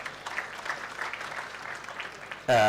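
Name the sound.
audience applause at commencement ceremony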